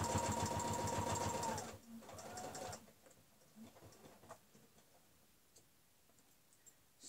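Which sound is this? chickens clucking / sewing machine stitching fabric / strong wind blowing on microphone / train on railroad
sewing machine stitching fabric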